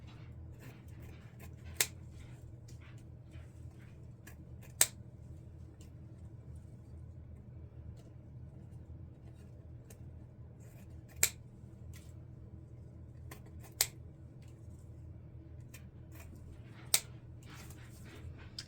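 Scissors snip the tails of deco mesh wreath ribbon, about six sharp isolated clicks spaced several seconds apart over a faint low background hum.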